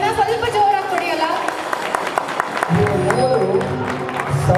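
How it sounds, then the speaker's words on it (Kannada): Audience applause at an Ugadi celebration performance, a busy crackle of clapping running throughout, mixed with a voice speaking over it. "ಇನ್ನೂ ಸ್ವಲ್ಪ ಜೋರಾಗಿ ಚಪ್ಪಾಳೆ"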